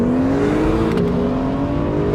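A 2021 Honda NSX hybrid supercar pulls hard in second gear, its engine note climbing steadily in a loud, continuous, close-up rising whine with no voices over it.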